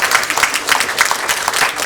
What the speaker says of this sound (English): Once again, can you give her a round of applause?